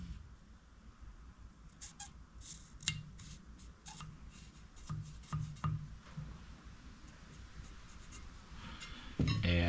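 Scribing or marking on a brass bar ahead of a one-inch cut in a small workshop: a run of short scratchy strokes and light clicks, close and fairly quiet, ending with a louder handling clatter.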